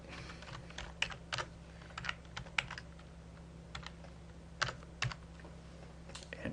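Keys clack on a computer keyboard as a test user login is typed: sparse, quiet, irregular keystrokes with gaps between them over a faint steady hum.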